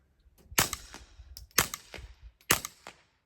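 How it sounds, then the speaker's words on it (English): Three sharp gunshots from a .22 AR-platform rifle ring out about a second apart at an outdoor range, each a crisp crack with a short decaying tail, fairly close and alone with no talking. "Okay, shooting a little bit low."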